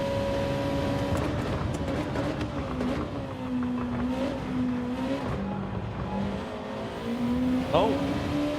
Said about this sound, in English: It's one of the better sounding cars on this game.